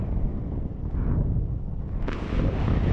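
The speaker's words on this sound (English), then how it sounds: "That's Billy, it's a bit windy." Strong wind blows outdoors at an abandoned spot, buffeting the microphone with a heavy, continuous low rumble that surges and gusts throughout, loud and close, with no voices.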